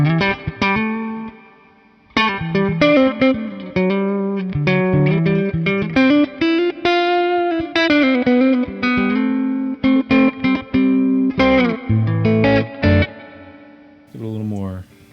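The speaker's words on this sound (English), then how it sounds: "Here's some reverb." An electric guitar on the neck pickup plays melodic lines through a Mocadlo 100 watt tube amp head with reverb added, notes ringing and trailing into a wash of reverb, loud and close.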